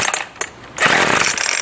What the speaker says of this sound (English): I got it full choke and I pull it full throttle till it starts and dies.